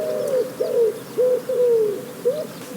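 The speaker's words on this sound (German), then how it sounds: "Die Taube hat auch einen richtig schönen Abend." A pigeon coos in a relaxed evening setting, several soft rolling calls close by with short pauses between them and a faint hiss underneath.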